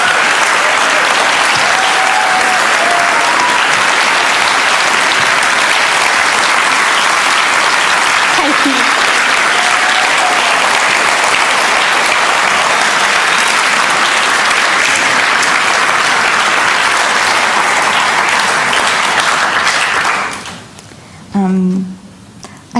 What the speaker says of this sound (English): I feel like we need to give you a second applause just so I can catch my breath.